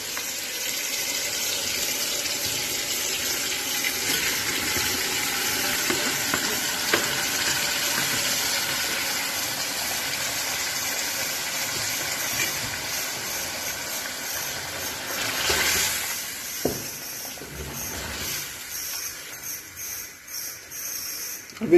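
Marinated chicken sizzles in a pan of softened tomatoes for Bombay chicken biryani, a broad, steady frying hiss that flares and crackles louder near the end.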